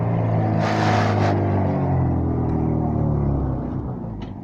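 A motor vehicle engine revs hard, a loud rising-and-falling roar with strong harmonic bands that swells early and tapers off toward the end, heard alone without talk.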